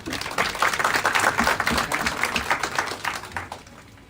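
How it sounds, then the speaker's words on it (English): Conference audience at a pre-service teachers forum applauding steadily as a speaker is welcomed to the podium, a dense, sustained round of clapping that thins toward the end, with some murmuring beneath. "let's give him a round of applause"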